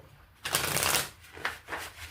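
A short burst of tarot card shuffling: a quick riffle of crisp paper flutter, then a few softer flicks and slides as the deck settles, close by.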